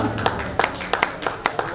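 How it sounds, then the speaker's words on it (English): Scattered claps from an awards-show audience at the Global India Awards 2024, a handful of distinct hand claps spaced irregularly rather than a full ovation, with a voice carrying over them. "Can we have huge claps, everyone out here?"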